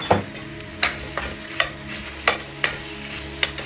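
Beef frying in a pan while being stirred for a ricotta and spinach cannelloni, a steady close sizzle broken by regular scraping strokes of a utensil across the pan, several in a loose rhythm with no talking.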